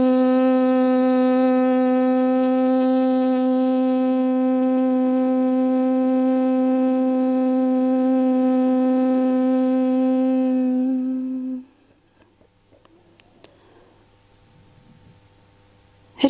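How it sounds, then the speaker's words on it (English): A sustained, loud humming "mmm" chant of Makara during a yoga session holds one steady tone with rich overtones for about eleven seconds, then stops, leaving near silence. "Let us chant Makara, loud chanting."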